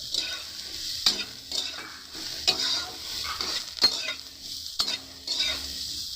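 Salted soybean chunks fry in a pan with a constant sizzle, broken by several sharp scrapes and clinks of a spoon stirring against the metal, close and clear with no talk.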